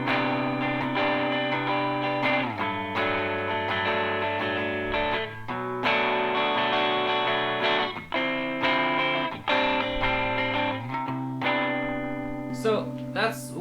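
Electric guitar playing a math rock chord progression through effects with reverb and chorus, sustained ringing chords changing every couple of seconds, steady and full, with a brief flurry of picked notes near the end.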